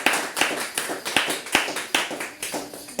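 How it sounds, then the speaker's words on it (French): Congregation in a church clapping in unison for the glory of God, a steady rhythmic beat of roughly ten claps in three seconds, bright and close, with no talking over it. "Merci pour vos acclamations, pour la gloire de Dieu"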